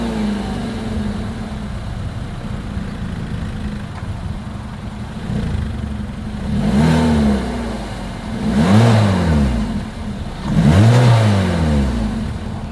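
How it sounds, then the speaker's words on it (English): A 2023 Hyundai Kona's exhaust idles steadily, then three loud revs rise and fall in sequence, each one a little stronger and closer together toward the end. "As always, here is that exhaust clip."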